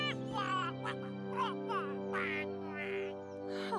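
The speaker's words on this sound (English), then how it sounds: "Look! The ducklings have hatched out!" Small ducklings quack in a steady run of high, bright calls over a sustained tonal music-like background, moderately loud and close.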